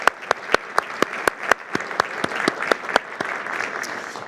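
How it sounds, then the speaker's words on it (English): Audience members at a homeland security address give a round of applause, sparse individual claps ringing out distinctly at first before thickening into a fuller, continuous clapping crowd. "I'd like to start really quickly by us giving them both a round of applause"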